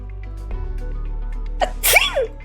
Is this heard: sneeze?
yes